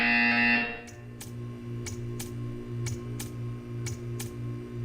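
A short loud tone is followed by a run of regular sharp electronic ticks, about two per second, over a steady low hum, a buzzer in Portal 2.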